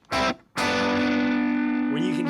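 Sustained electric guitar double stops played through distortion and effects, loud and close, with a short stab followed by a long ringing two-note chord that wavers near the end.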